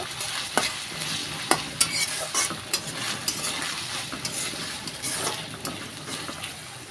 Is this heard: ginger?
yes